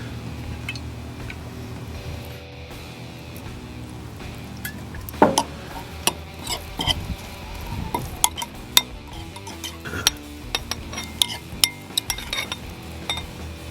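A spoon mixing an herb mixture with oil for a herb-crusted pork loin, with a run of metallic clinks and scrapes against the bowl, close and irregular, picking up in the second half, with no talk.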